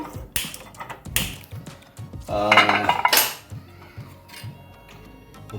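Eggs beaten in a bowl for an egg masala curry, heard as bursts of clinking and scraping of utensil against the dish, with a louder clattering stretch in the middle, close and without talk.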